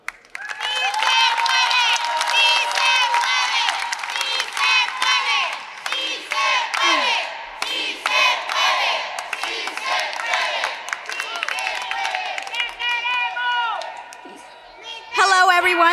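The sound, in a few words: crowd applauding and cheering at a rally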